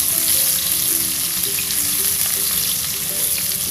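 Close, continuous sizzling of tempeh frying in oil, with soft stirring scrapes under the crackle and no talking.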